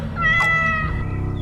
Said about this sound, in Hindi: पलक झपकते ही बिल्ली ने खेल की सारी बाजी पलट दी और वो उछलकर समर सिंह की गोद में जा बैठा।